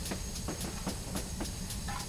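Steam hisses from a GWR Hall 4900 Class locomotive in a train simulator game on the Falmouth branch line, with brake pressure releasing as a continuous hiss and regular rhythmic clicks beneath it.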